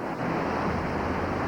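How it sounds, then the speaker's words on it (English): Powerful white water from a breaking surf wave roars as a dense, continuous hiss and rumble, loud and close, with no voices. "The powerful white water sucks Michael under."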